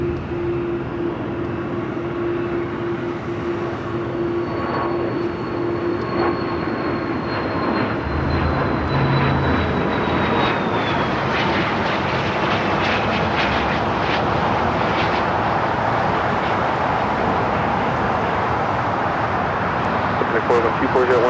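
A jet airliner takes off from runway 25 at Los Angeles International Airport, a loud, steady engine roar with a high whine that slowly falls in pitch and runs the whole time, with faint radio voices beneath.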